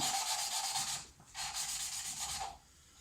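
Steady gritty rubbing, a rasping back-and-forth scrub of an engine valve being lapped with grinding compound in two long bursts separated by a brief pause, close and fairly loud with no talking.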